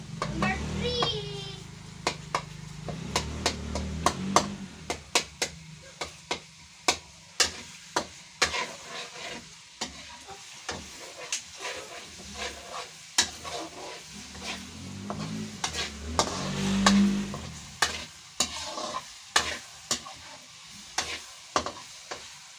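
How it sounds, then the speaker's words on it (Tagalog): Garlic sautéed in oil for homemade chili garlic oil, with stirring scrapes and clinks recurring through a soft sizzle while children's voices and an adult speak at times over the cooking. "Ginisa yung bawang."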